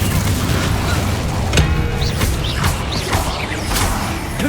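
Incendio fire spell in Hogwarts Legacy, a dense roaring burst of flame and impacts with sharp cracks and whooshing flares amid loud combat noise, near and continuous.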